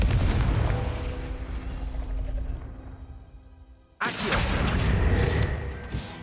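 A Confringo fire spell blasts in the video game Hogwarts Legacy, a sudden loud burst that cuts in sharply after a fading, rumbling stretch of game sound, then stays dense and booming to the end.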